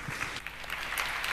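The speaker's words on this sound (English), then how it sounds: "So let's give them a quick round of applause." Brief applause from a conference audience, a short wash of steady clapping from a crowd in a hall, heard alone without talking.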